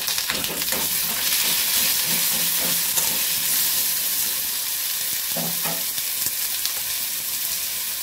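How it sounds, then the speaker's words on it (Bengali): Ginger garlic paste hits fried potatoes in hot oil in a kadai, giving a steady loud hissing sizzle broken by occasional stirring scrapes. "আর আদা রসুনের পেস্ট দিয়ে দেবো"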